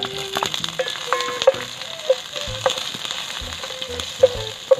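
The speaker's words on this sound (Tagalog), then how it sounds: "Ngayon, manggisa na tayo." Onions sautéing in a pan for spicy quail adobo, a steady sizzle with scattered clinks and scrapes of a utensil, close by and moderately loud, with no talk.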